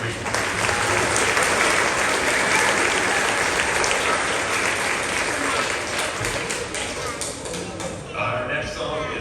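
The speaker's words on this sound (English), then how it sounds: "So give those trumpets a round of applause." Loud, dense applause fills the room after a trumpet piece at a 6th grade spring school concert, steady clapping from a large audience that thins out near the end.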